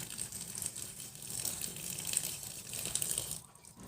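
Steady tap water runs nearby while termite mushrooms are rinsed in a sink, a continuous hiss with faint clinks and splashes throughout, then tapering off briefly near the end.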